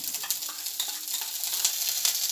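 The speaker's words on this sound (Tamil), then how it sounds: "ஒரு கடாயை எடுத்து நல்லா காஞ்சதுக்கப்புறம் பட்டர் இதோட ஆட் பண்ணிக்கோங்க" Butter sizzling in a hot kadai, a steady bright crackling hiss with small popping bursts, close and continuous, no voices.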